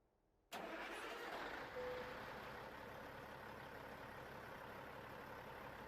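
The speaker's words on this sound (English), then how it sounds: "let's go ahead and start up the truck here" A Cat 3406E diesel in a truck in American Truck Simulator cranks and fires after a brief quiet moment, then settles into a steady, loud idle rumble that runs on alone.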